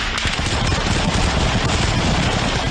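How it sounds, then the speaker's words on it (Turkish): Gunfire from wartime fighting rattles in a dense, continuous burst of rapid shots, loud and unbroken with no voices. "Çatışmalarda silahlar art arda patladı."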